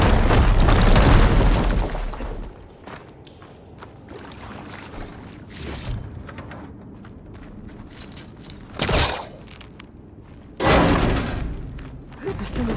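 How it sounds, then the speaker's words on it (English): In Horizon Forbidden West, a fire gleam is blown up with a loud, roaring explosion right at the start that rumbles for about two seconds, followed later by two more sharp blasts amid quieter in-game ambience. "Should be able to blow up that fire gleam."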